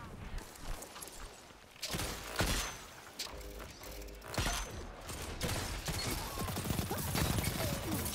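Rapid SMG bursts in Destiny PvP, crackling repeatedly over about eight seconds amid game effects, with occasional talk and announcer cues mixed underneath.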